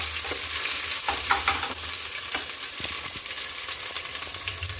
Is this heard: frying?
yes